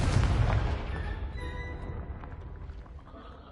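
A Confringo fire spell blast in the game Hogwarts Legacy, one heavy booming explosion that rumbles and fades slowly over about three seconds, loud and close.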